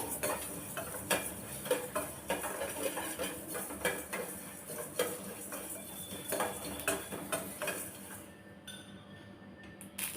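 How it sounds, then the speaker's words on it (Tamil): Fenugreek and spices dry roasting in a pan, with repeated close scraping and clinking of a metal spoon stirring against the pan, light crackle underneath, fading out near the end. "இது மூணையுமே நல்லா வறுத்தெடுத்துக்கலாம் கருக விட்டுறாமல் நம்ம வறுத்தெடுத்துக்கணும்"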